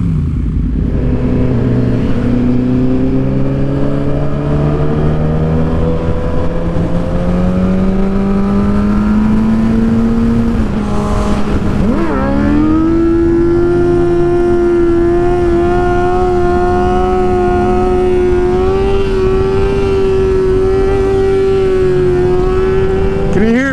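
A loud, nearby car engine revs and climbs in pitch in long sustained pulls, dips briefly, then rises again and holds a high whine for the rest of the stretch.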